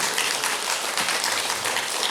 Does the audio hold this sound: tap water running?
no